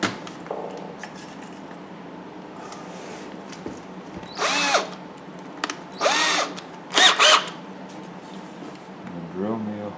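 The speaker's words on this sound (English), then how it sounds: "Now, I'm going to take my drill and with the 1/8 inch bit," A power drill with a 1/8 inch bit bores into a wooden carving of a Native American bust with a shield. It whirs in three or four short bursts, loud and close, between stretches of someone talking.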